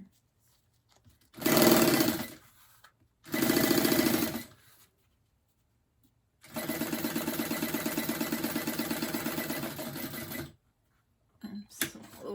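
A sewing machine bastes a fabric purse shut in close, loud bursts: two short runs, then a longer steady stretch of rapid stitching, ending with brief stops.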